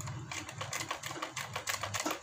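A sewing machine runs a basting stitch along the hem of a salwar mohri, with fast rhythmic clattering in short, close bursts of needle strokes.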